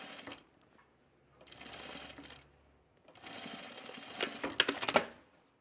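A serger overlock sewing machine stitching along a fabric edge in short bursts, a fast whirring chatter starting and stopping, close and fairly quiet, with a louder clattering run near the end.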